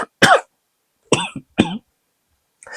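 Several sharp, close coughs come in quick bursts, with a pause before a fainter final one.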